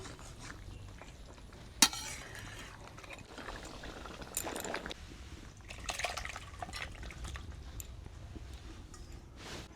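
A pot of raw mango and meat curry is stirred with a utensil, giving faint scrapes, clinks and liquid sloshing, with one sharp clank, quiet and intermittent.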